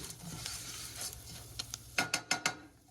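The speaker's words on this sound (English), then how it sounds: "I'm just toasting that couscous a little bit." Couscous being dry-toasted in a pan with a Peruvian spice blend: a soft steady sizzle and stirring scrape, ending in four sharp, evenly spaced knocks or scrapes of a utensil close by.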